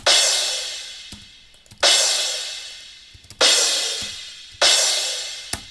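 A crash cymbal processed through a frequency shifter, struck four times at steady intervals, each hit washing out into a long, bright, shimmering decay with low fundamental tones brought up, no voices.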